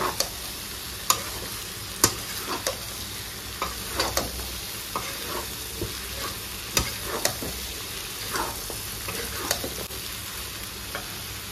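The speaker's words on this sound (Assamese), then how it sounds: "ভাজিব লাগিব এতিয়া" Banana stem sizzles steadily in a hot pan while a utensil stirs and scrapes, with sharp metallic clicks and taps at irregular intervals.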